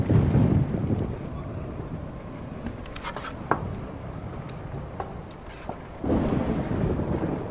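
Low rumbling storm noise with wind buffeting the microphone, swelling louder at the start and end, with a few faint clicks in between.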